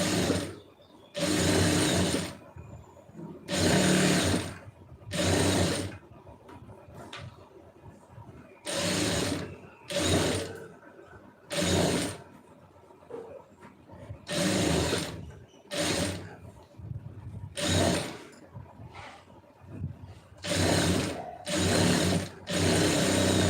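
A sewing machine stitches a folded lining piece in repeated close bursts of rapid mechanical whirring, pausing briefly between runs, with faint handling noise in the gaps.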